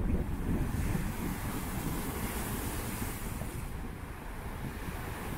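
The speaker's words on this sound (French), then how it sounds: "Parce qu'il y a du vent" Strong wind buffets the microphone while rough sea waves surge and break continuously, a loud, steady roar of surf and gusts with no pauses.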